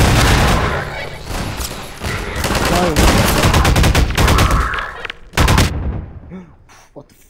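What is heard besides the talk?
gunfire in the video game Half-Life 2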